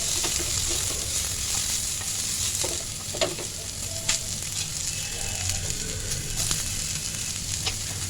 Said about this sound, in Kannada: ಸ್ವಲ್ಪ ಎಣ್ಣೆ ಹಾಕ್ಕೊಂಡು ಅದಕ್ಕೆ ಈರುಳ್ಳಿ ಹಾಕಿ ಫ್ರೈ ಮಾಡ್ಕೊಳ್ಳೋಣ